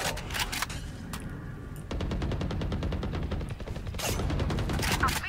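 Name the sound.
gunfire in the video game Valorant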